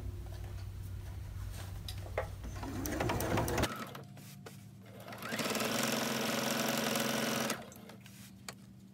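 A sewing machine stitches a zipper pouch, the presser foot running along the fabric edge: a short burst of steady motor whir, a pause with a few faint clicks, then a longer loud continuous run that stops abruptly.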